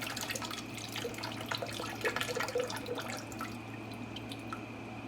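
Coconut water pours steadily into a small blender with a soft, continuous splashing and trickling, with small drips, quiet and close.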